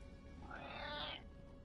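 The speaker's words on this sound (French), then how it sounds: "Bah oui, tu es un beau chat." A cat gives a single drawn-out, rising-and-falling meow lasting about a second, close but fairly quiet in a still indoor room.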